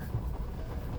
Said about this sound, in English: That is a train that you hear.